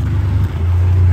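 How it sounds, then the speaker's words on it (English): Loud exhaust of a Ford Fusion car, a deep steady rumble close by that holds through the whole moment with a slight swell partway, no voices over it. "It's almost like he's got a switch on that thing to open up the exhaust."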